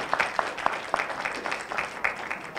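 Scattered audience clapping at a senior citizens community event honoring a senior, sparse and moderately faint, with a few sharper claps standing out over a low murmur.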